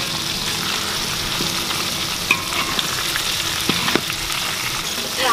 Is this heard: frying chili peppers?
yes